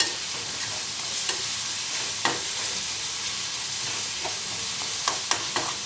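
Garlic sautéing in a pan gives a steady, close sizzle and hiss throughout, broken by a few sharp scrapes and taps of a stirring utensil against the pan.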